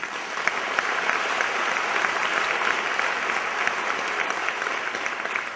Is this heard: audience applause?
yes